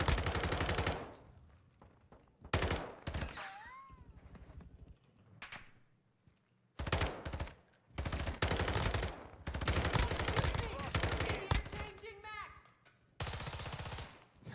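Repeated bursts of automatic gunfire in Call of Duty MW2, loud rapid volleys separated by short quiet gaps, with other game sounds and a faint voice between them.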